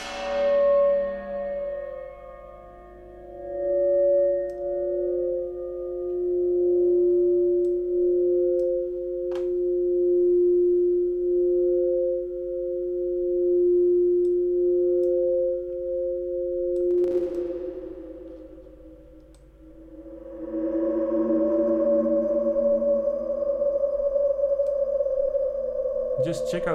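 Sustained synthesizer tones hold steady pitches, bathed in long reverb tails, with a brighter, more textured wash of processed sound swelling in near the end.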